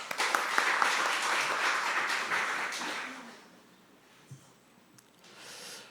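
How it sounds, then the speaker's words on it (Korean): Audience applause at an academic science forum lecture, a dense, fairly loud burst of clapping that fades out after about three seconds, leaving a quiet room with a faint thump. "큰 박수 부탁드립니다."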